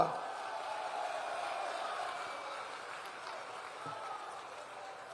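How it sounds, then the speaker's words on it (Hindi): A crowd applauding at a BJP political rally in Jamalpur: a steady wash of clapping and crowd noise that stays level and gradually eases, heard from a distance. "अरुण जी के लिए जोर से ताली बजाओ जरा"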